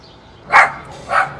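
Dogs barking nearby in a home garage setting, two sharp barks roughly half a second apart, loud and clear over quiet background.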